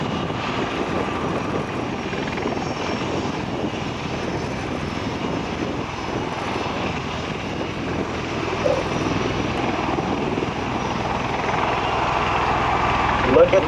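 A CV-22 Osprey tilt-rotor aircraft hovering at an airshow: a loud, constant rotor and engine roar, heard from a distance, that swells slightly toward the end, with a voice talking over it.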